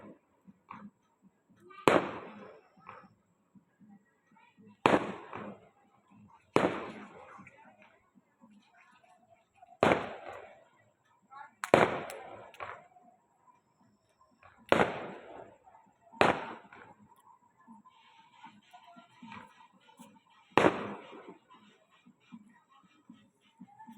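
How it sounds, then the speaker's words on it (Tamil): Fireworks and firecrackers go off at a village temple festival, about eight separate loud booming bursts spaced a few seconds apart, each trailing into crackle, with people talking in between. "அங்கே பாருங்க பட்டாஸ் வான சூப்பரா சூப்பராக இருக்காங்க பாருங்கள் கோவில்ல"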